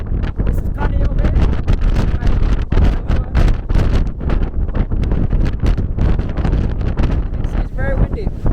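Strong gusty wind at Pali Lookout on Oahu buffets and roars loudly across the microphone in continuous bursts, with a person talking underneath.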